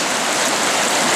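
A stream churns loudly over bedrock in a natural riffle, a dense, continuous rushing wash of water close by with no talk.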